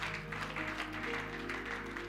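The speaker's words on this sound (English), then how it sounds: "Clap your hands and give God praise." A church congregation claps during worship, a quick rhythmic patter of many hands over steady sustained musical tones and a low hum, moderately loud throughout.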